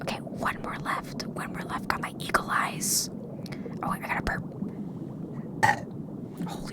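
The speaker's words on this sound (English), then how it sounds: "Holy shit, that was like a loud burp" One loud, croaking burp from a person close by, set in a hushed outdoor scene among rustling leaves, with soft whispered voices before and after it.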